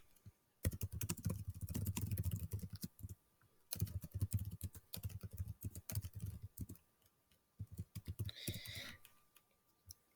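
Rapid typing on a computer keyboard while entering quiz questions, a dense run of close key clicks in bursts with short pauses between them.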